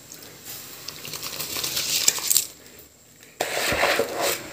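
Broken rice grits poured into a pot of boiling salted water, a dry gritty patter that rises for about two seconds, pauses, then resumes in a second pour, close and fairly loud.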